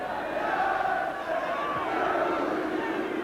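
A football crowd at a Norwich City versus Manchester City match jeers a returning player with a steady, dense wall of distant booing and whistling that carries on throughout.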